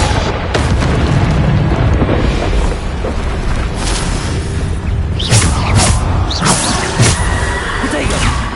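The Bombarda explosion spell in the video game Hogwarts Legacy on PS5: loud, dense booming blasts and crashes one after another, with bursts of sharp impacts near the end and no talk over them.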